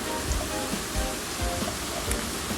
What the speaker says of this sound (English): Sorry if you can hear noise from my background, it's raining here.